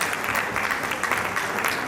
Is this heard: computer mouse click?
no